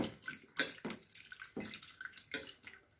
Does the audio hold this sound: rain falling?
no